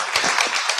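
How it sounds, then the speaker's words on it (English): Audience giving a round of applause at a talk-series gathering, heard as a short burst of dense clapping, close and moderately loud, with no talk over it. "if we give a round of applause to Judy"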